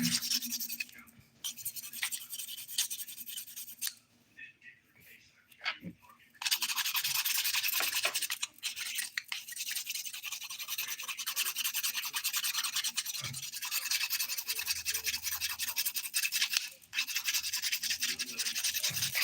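Dip powder nails coated in clear dip over dried flowers being filed or buffed smooth, a steady close scratchy rasping that runs in long strokes with a brief pause early on, no talking.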